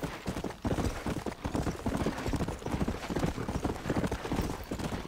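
Steady clip-clop of a horse's galloping hooves in the video game Red Dead Redemption runs throughout, a fast rhythmic pounding with a soft, slightly synthetic tone.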